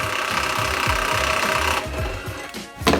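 A power tool zips out bolts holding a Motobilt Crusher rear bumper, rapid rattling impacts chattering close and loud, then cutting off abruptly with a brief clank.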